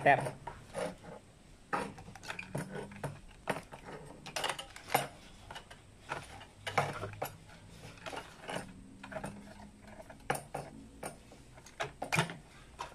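A reflector being fitted onto a homemade digital TV antenna with nuts and hardware, a close series of small scattered clicks, taps and scraping rubs on metal, uneven in rhythm, with no speech.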